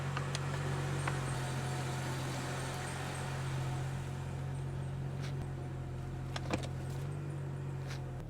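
A BMW car's engine runs steadily at a low, even idle as it creeps out of a repair shop, with a faint jingle of keys and a couple of brief clicks over the constant hum.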